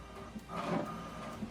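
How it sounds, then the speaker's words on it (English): An HP Deskjet 2700e printer prints an alignment page, a faint mechanical whir and soft feed rumble swelling briefly in the middle before settling to a quiet hum. "what it's doing now is printing the alignment"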